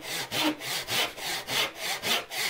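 A hand saw cuts a dovetail half lap joint in wood with light pressure, producing a steady rhythm of rasping strokes, about two per second, close and fairly quiet with no talk.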